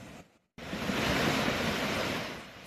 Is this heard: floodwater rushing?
yes